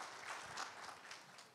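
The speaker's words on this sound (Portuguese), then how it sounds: "Uma salva de palmas para ele" Audience applause for a 56-year-old man's birthday at a talk event, a brief, steady burst of clapping from a crowd, faint and diffuse.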